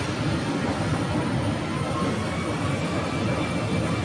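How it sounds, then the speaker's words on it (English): A CRJ 900 regional jet arriving and another departing at Phoenix airport produce a continuous loud engine roar and whine filling the scene, steady throughout with no speech. "We have one coming in and we have one going out. Two CRJs."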